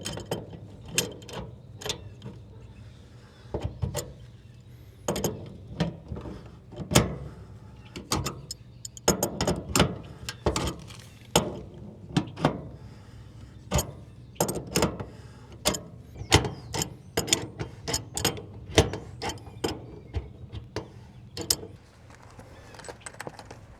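Hand tightening of refrigerant line fittings on a Mr Cool mini-split install, with a long run of close metallic clicks, ratcheting and jangling taps in uneven bursts, no speech.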